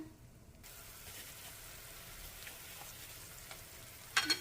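Food for a sick child boils in a pot with a faint, steady bubbling hiss, then a couple of brief utensil clinks near the end.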